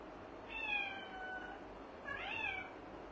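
A cat with an injured paw meows twice at night, two rising, drawn-out cries about a second and a half apart, fairly faint against a quiet room, with no one speaking.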